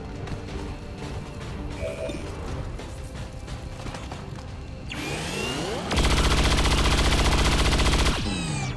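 Gunfire aimed at a robot in XCOM 2, a loud, dense burst of automatic shots near the end following clattering mechanical sounds and steady game noise.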